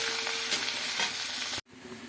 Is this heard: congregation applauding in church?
no